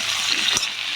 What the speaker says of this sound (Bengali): আলু ভাজা হয়ে গেছে, কাঁচকলাগুলো দিয়ে দিলাম।